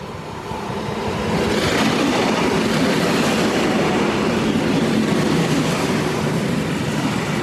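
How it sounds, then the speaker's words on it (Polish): A train passes close by on a Polish railway line in Silesia, a loud, continuous rumble with rapid clickety-clack from the wheels that swells early and holds steady. No one speaks. "zapowiadany pociąg do Wardonia"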